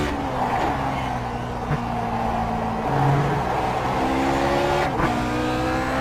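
A Lotus 49 race car engine at Donington in a racing game revs high and steady, its pitch climbing and dropping through gear changes, loud and close, with no talking.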